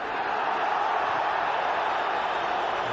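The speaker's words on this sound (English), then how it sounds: "only the crowd appealing for a handball in there, not the players in white" Stadium crowd at a Real Madrid versus Atletico de Madrid football match rises in a steady, loud roar of massed voices appealing for a handball, a continuous wash without pauses.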